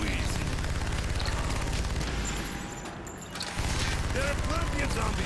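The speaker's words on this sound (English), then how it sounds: "God, I love the Death Machine." Death Machine minigun firing in Call of Duty Black Ops Zombies on the Ascension map, a loud continuous rapid rattle of shots that pauses briefly and then resumes, with game effects layered underneath.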